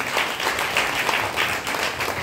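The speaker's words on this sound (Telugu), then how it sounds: "గట్టిగా చప్పట్లు కొడుతూ దేవునామని మహించారు" A church congregation at a fellowship meeting claps loudly and continuously in praise, a thick, steady wash of hands with brief rhythmic swells and no speech over it.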